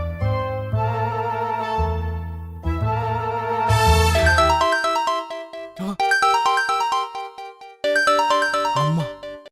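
A mobile phone ringtone playing a melodic electronic tune, loud and close, in repeated phrases with short gaps between them, heard alone.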